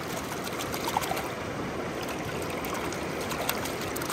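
Steady running water splashes continuously over a toy squid, a close, even gush with no pauses.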